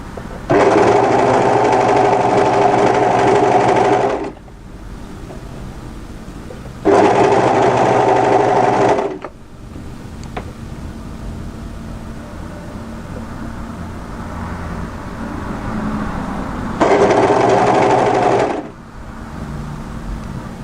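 A sewing machine runs a seam on a tee dress in three separate bursts of steady, loud whirring, each lasting two to four seconds, with quiet pauses between them.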